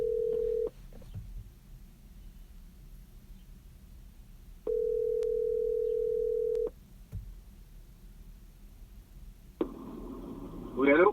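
A telephone line that has cut out gives a steady electronic tone, heard as a short beep and then a longer held tone about two seconds long over faint room noise, with some brief sounds near the end.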